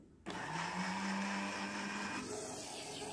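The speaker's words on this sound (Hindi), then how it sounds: "एक से दो मिनट के लिए आपने ब्लेंडर चलाना है" A kitchen blender kicks on abruptly and whirs steadily at high speed blending eggless mayonnaise ingredients with vinegar, loud and near, with a slight change in tone toward the end.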